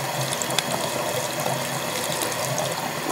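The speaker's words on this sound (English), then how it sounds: "I just keep doing it until the water runs clear" Water runs steadily from a tap while makeup brushes are rinsed under it, a continuous close splashing hiss with small clinks and no talking.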